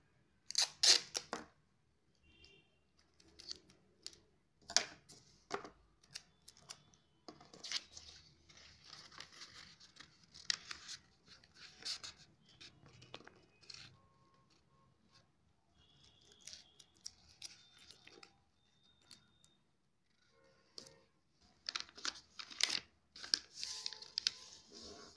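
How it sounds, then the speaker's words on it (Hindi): Small pieces of tape are torn and pulled off a roll while a paper nurse cap is being assembled, giving a series of sharp, close rips and crinkly handling noises in bursts with pauses between them. "एक छोटा सा पीस टेप का लें।"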